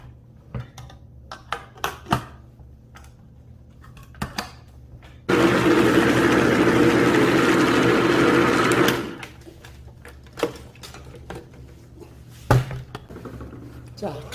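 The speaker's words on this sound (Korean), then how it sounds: "자, 갈 겁니다." A blender grinds kimchi seasoning with oysters and salted shrimp in a loud, continuous burst of about four seconds, framed by scattered kitchen knocks and a voice talking before and after.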